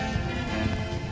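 Steady rain falls outdoors, a dense, even hiss of drops on surfaces with no pauses, moderately loud and continuous.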